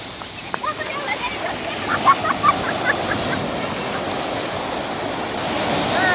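Broadband roar of open sea surf out on the water during crab-net fishing, with a big wave surging and building steadily louder toward the end, fairly close and continuous, with faint voices underneath.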